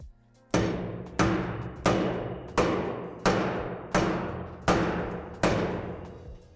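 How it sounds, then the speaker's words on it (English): A block of wood placed on top of a metal basketball pole is struck eight times at a steady pace, each sharp, ringing metallic bang decaying before the next, close and alone without speech. "place a block of wood on the top pole and hit it 5 or 6 times"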